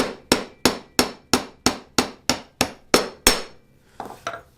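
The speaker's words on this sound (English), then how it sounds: "I can set a piece of wood in here and I can drive it through" A hammer drives a piece of wood through a steel dowel plate made from an old file, ten sharp evenly spaced blows ringing loud and close, followed by two softer taps.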